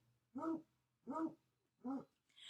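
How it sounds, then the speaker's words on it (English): A dog barks three times at a steady, unhurried pace, with the start of a fourth bark at the end; the barks sound somewhat distant. "Sorry, that's my dog."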